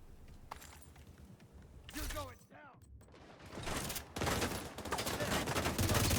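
Video game gunfire starts quietly with a few scattered pops, then swells into loud, dense bursts of automatic fire over the last two seconds, with brief speech early on.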